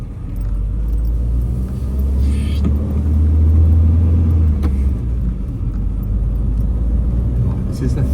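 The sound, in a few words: 1973 Citroen DS D Super5 being driven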